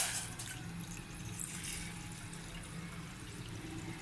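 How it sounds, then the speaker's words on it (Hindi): Roughly a litre of water poured into a cooking pot while preparing a kadha, a steady, fairly close splashing pour that runs continuously without any talk. "ये 1 लीटर पानी हमने भगोने में डाल दिया।"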